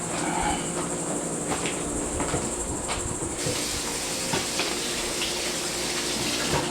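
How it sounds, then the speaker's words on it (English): Water running from a kitchen tap while fingers are rinsed, a steady close hiss with small splashy variations, continuous through the whole stretch with no talk. "I'm going to quickly rinse my fingers off."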